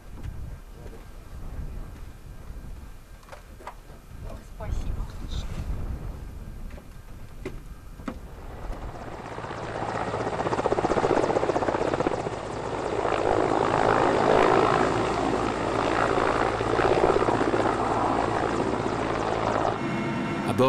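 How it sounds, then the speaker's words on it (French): A Mi-8 helicopter flying over Kamchatka: a steady, loud rotor and turbine roar that swells in after a quieter, scattered stretch and holds constant to the end. "L'hélicoptère Mi-8 appartient à une entreprise privée."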